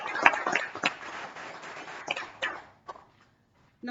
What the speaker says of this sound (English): A big round of applause to